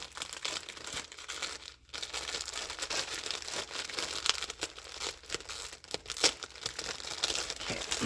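A taped package is pulled open by hand, with close, steady crinkling and rustling of paper and tape, broken by sharper tearing crackles and a brief pause.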